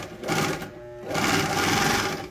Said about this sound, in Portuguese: mas será que dá para costurar na overlock?